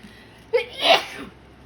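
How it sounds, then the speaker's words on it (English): A single sharp sneeze, close and loud, with a quick breathy intake just before it and quiet afterward. "feel like I'm gonna sneeze"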